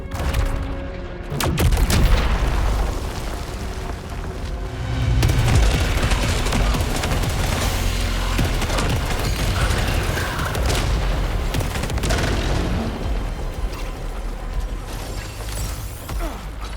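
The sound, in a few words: power weapon blasting down a wall in video game Saros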